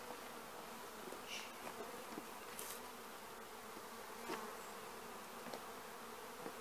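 Honey bees buzz inside an opened beehive, a steady close hum of many insects with occasional louder passes near the listener, quiet and without voices.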